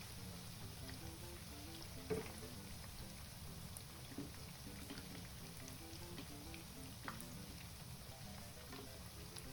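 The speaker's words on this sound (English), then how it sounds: "Oh, it's sizzling." Breaded chicken sizzles steadily in a hot pan, a constant close crackle with a few sharper pops and light stirring clatter, no talking.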